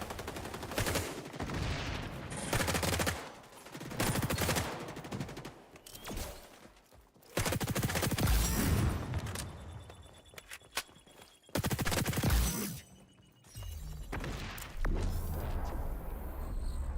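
P90 submachine gun fire in the shooter XDefiant comes in long rapid automatic bursts separated by brief pauses, loud and close in the game mix, with a little chatter between volleys.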